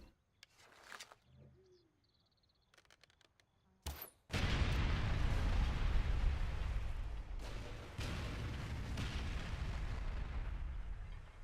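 A red barrel explodes in Far Cry 4, one sudden loud blast that breaks a quiet stretch of sparse game sounds and then rolls into a long, dense rumble that lingers to the end.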